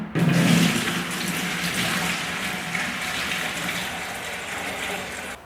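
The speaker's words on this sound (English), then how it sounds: "we can transfer the water from the bucket over into our watering can" Water poured from a bucket into a watering can during a DIY concrete-floor painting job, a steady rushing pour that holds for several seconds before cutting off.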